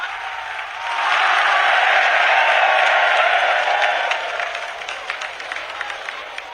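A large crowd at a Bageshwar Dham gathering breaks into loud, sustained applause welcoming the Prime Minister, swelling after a second and holding as a dense wash of clapping before thinning slightly.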